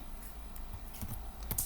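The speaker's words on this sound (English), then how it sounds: "the next thing is to type in the date and the time" A computer keyboard is typed on at a quick, even rhythm close up, entering the date and time on a church flyer, a dense run of crisp clicks with no speech.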